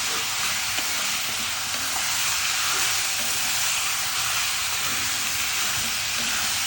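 Chicken pieces frying in an iron pan for Mandya-style chicken chops, with a loud, constant sizzle and hiss as the moisture cooks off, close by and uninterrupted.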